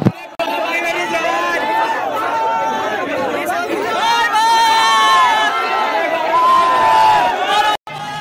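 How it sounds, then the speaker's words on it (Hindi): A large crowd of fans packs tightly around a YouTuber, a steady dense babble of many voices chattering close by, with occasional louder calls rising above the continuous hubbub. "भाई देखो कितनी भीड़ है,"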